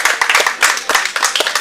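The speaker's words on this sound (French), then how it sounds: "Je pense qu'on peut les applaudir" A small indoor audience at a debate during a Red Cross wood festival in Favars claps in quick, close, overlapping bursts, sharp and loud for a short stretch.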